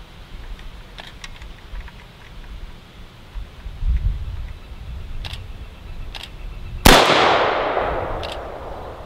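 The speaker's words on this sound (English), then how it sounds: "I have an AKM that I'm going to be shooting off a couple rounds today." An AKM rifle fires a single loud, sharp shot outdoors on a farm, with a long decaying ring afterward, preceded by faint rustling and ticks.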